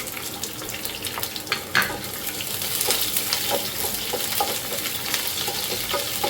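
Dried chillies and small shallots fry in a pan for a coconut-free Madurai thanni chutney, a steady sizzle and crackle with scattered stirring clicks, close and fairly even throughout.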